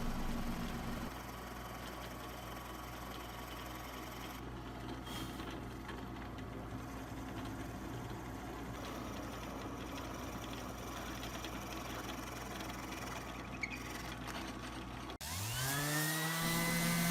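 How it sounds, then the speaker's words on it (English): A drill press runs with a continuous motor hum and whir, droning steadily for a long stretch, then a sharper rising whine starts up near the end as it spins up to drill a hole in wood. "I will take it to my drill press and I'll drill out a hole for the handle"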